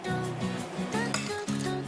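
A metal fork and spoon clink and rattle against each other as they are handled, with several bright ringing taps in quick, uneven succession.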